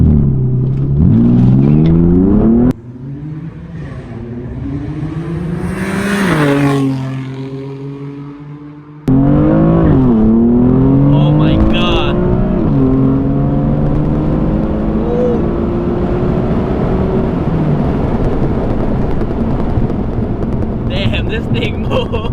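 BMW M4 race car launching hard from a standstill with traction control off, engine revving up through rising gear pulls with clear upshift breaks, loud and close from inside the cabin, with an occupant's voice heard along the way.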